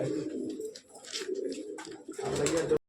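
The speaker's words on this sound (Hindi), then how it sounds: "ये सहारनपुरी नस्ल की कबूतर है" Saharanpuri breed pigeons coo in soft, repeated rolling calls, close by and fairly quiet, with no voices.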